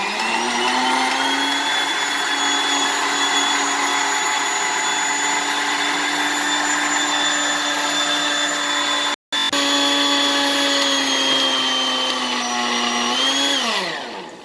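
A powerful kitchen blender whirs loudly and steadily as it purées boiled enchilada ingredients, cutting out for a moment, then running on before winding down at the end.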